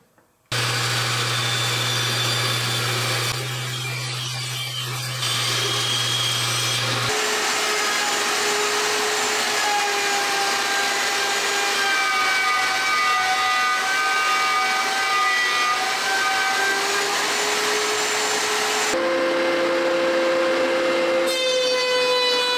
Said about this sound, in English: let's go cut those on the bandsaw